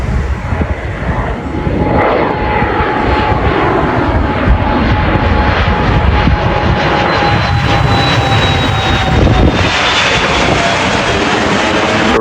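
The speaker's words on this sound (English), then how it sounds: "sure enough, another plane flew over" An airplane flies low over the runway exit near Puerto Vallarta airport, a loud continuous engine roar with a high whine that stays strong and close for the whole twelve seconds.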